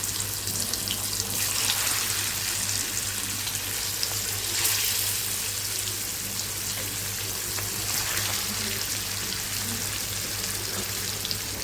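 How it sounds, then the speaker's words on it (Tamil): Fish frying in hot oil in a kadai, a steady loud sizzle and crackle that fills the whole stretch without pause, close by and with no talking over it. "மீன் வறுக்க எண்ணெய் காஞ்சிடுச்சு."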